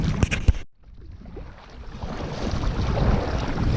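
A kayak paddled quickly across water at night, with splashy paddle strokes and water rushing along the hull, mixed with wind noise on the microphone and a brief dropout early on.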